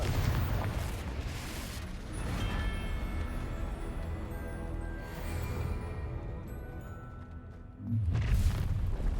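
Fiery blast of the Confringo spell in a wizard game: a muffled burst, then a drawn-out rumbling tail with a ringing shimmer, and a second sharper hit near the end, fairly faint overall.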